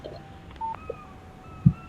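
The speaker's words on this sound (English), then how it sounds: "What did I tell you? text message from Barry." Phone text message alert in the Alan Wake video game: a few short electronic beeps and tones, then a soft low blip, clear and alone without talk.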